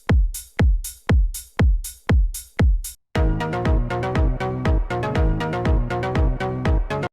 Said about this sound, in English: Throw a hi-hat in there.